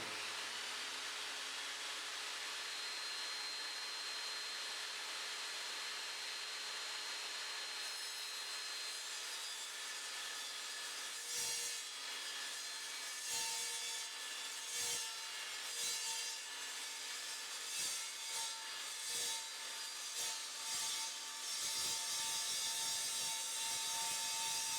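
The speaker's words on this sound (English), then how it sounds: "I'm now going to cut this piece of 10mm thick acrylic" An Evolution Fury 5-S table saw cuts through 10mm thick acrylic. A steady high motor whine runs first, then the blade bites with a series of rough, uneven grinding bursts. The sound is fairly quiet and close, with no talking.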